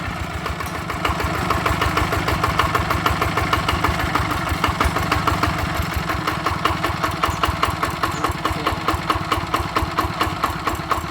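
A Chao Phalang small engine converted to run on gas, with freshly replaced gears and rebuilt parts, idles close up in a steady, loud, evenly knocking chug throughout.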